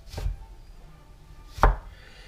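Two crisp knife chops on carrots against a cutting board, well separated, close and clear over a quiet room.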